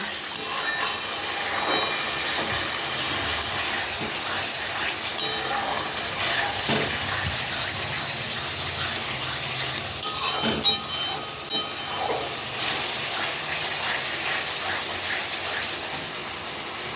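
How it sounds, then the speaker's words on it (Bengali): Cashews and raisins frying in a pan while being stirred, a steady close sizzle with scraping stir strokes and occasional louder clatters, no talk. "কাজু কিশমিশটা এরকম অবস্থায় দিয়ে নাড়লে না কাজুটা ভাজা হয়ে যায়"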